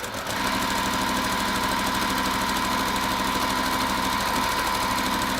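A TL 2020 Limited Platinum Edition sewing machine runs at a steady, loud speed, giving a continuous motor whir with a fast even stitching buzz and no talking.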